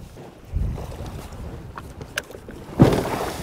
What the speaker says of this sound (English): this wind is really starting to pick up